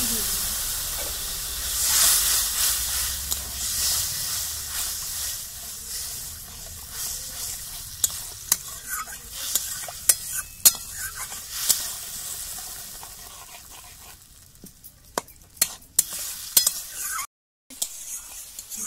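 Tamarind water poured onto frying bitter gourd sets off a loud hiss and steamy sizzle that slowly settles, followed by a run of quick spoon clinks and scrapes as it is stirred, briefly cut off near the end.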